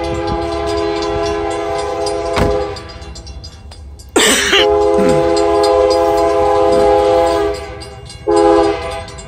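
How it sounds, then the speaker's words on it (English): A train horn blasts in long, loud sustained tones, cutting off briefly and sounding again, with rail rumble underneath and a short cough-like burst between blasts. "I try to get enough far enough ahead so I can get some multiple train horns"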